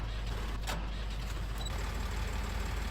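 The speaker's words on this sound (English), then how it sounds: "let's start the van up and hopefully the tractor will start" A van running on jump leads hooked to a tractor holds a steady, low engine rumble close by, with a brief rattling burst early on and a faint hiss above the drone.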